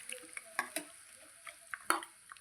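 Quiet scraping and tapping of a spoon stirring roasted masala in a pan for chicken gravy, a few scattered clinks and soft sizzling in between.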